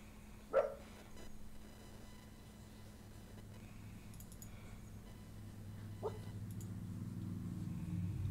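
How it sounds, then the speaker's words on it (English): A sled dog gives a single sharp bark, then another a few seconds later, both at some distance over a low engine-like rumble. "some barking going on"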